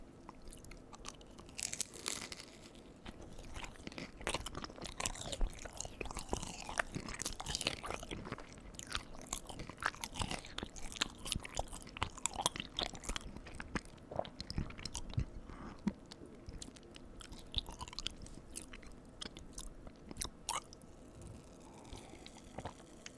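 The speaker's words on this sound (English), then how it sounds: "I don't like eating the tails of these because they're just pure crunch." Close, steady crunching and chewing of fried cream cheese wontons with crisp wrappers, continuous bites and mouth sounds throughout, with no talking.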